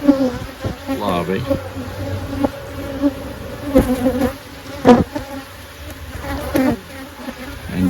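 Honey bees buzz steadily around an open hive, a close, continuous drone with brief louder swells as individual bees pass near, while a person talks briefly over it.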